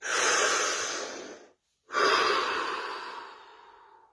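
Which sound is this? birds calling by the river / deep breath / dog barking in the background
deep breath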